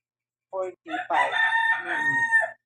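A rooster crows once, close and loud, a long drawn-out call lasting about two seconds against silence.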